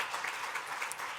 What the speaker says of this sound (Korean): 자 한번 우리 뜨거운 박수로 한번 환영할까요?